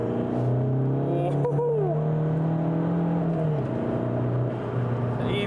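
A diesel Seat Ibiza 2.0 CR, heavily tuned, pulls hard from inside the cabin with a rising engine drone, a brief gear change, then the pitch climbing again, loud and steady.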